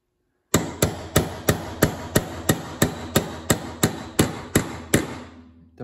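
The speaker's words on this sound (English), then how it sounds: "we're gonna drive it through the shell deflector until we hear it change pitch" A hammer strikes a pin punch about a dozen times in an even rhythm, driving it through the polymer shell deflector of a CZ Bren 2 stock adapter; each sharp metallic blow is close and loud, then rings away.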